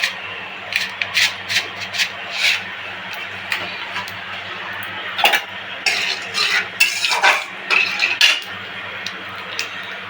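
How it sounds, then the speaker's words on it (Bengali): Spices are ground by hand on a sil nora grinding stone, producing repeated close scraping and rubbing strokes with light clatter in an irregular rhythm, with no talking. "এবার শিল নোড়ায় দিয়ে দিলাম আর একটু কাজ কালো জিরে ফোড়নে দিয়ে দিলাম"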